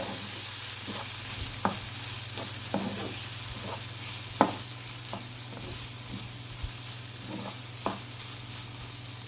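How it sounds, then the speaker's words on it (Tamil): Onion tomato masala with chilli powder sautéing in a pan, a soft steady sizzle with intermittent scraping stirs and light clinks of the spoon against the pan, close and moderately quiet. "இது ஒரு 10 செகண்ட் நல்லா வதக்கி விட்டுக்கோங்க"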